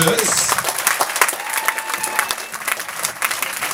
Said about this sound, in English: Please, a real London applause for Mara Pictures.